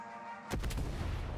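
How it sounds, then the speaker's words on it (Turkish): A bomb explodes in the Far Cry 6 video game: after a quiet hum, a sudden loud boom bursts in with a rumbling tail that lingers to the end. "Ne bomba attım bir."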